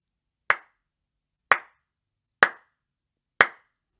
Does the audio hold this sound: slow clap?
yes